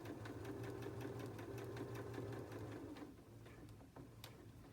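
A sewing machine back stitching a seam across 5-inch charm pack fabric squares, a close, steady rapid needle chatter that slows and stops near the end.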